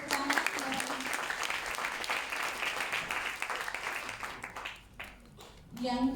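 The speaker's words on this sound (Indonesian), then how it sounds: "Boleh tepuk tangan?" An audience at a school information session in Jakarta claps steadily for several seconds, the sound fading slightly before a voice speaks near the end.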